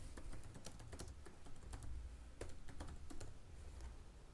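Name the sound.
typing text on a computer keyboard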